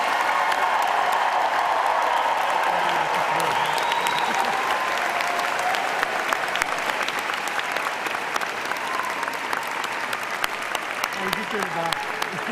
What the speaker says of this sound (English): please join me in applauding the Faculty of Environment, Faculty of Education graduates.